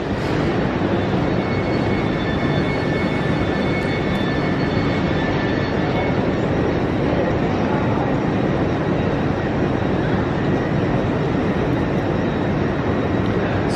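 A train at a platform in York railway station, heard as a steady, loud engine rumble and hum that holds constant throughout, with faint high tonal whines above it.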